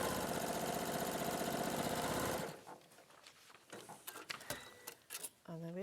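A sewing machine stitches fabric pieces for patchwork along a marked line, running in a steady, fast, close whir for about two seconds before stopping abruptly, followed by quieter handling clicks and rustles.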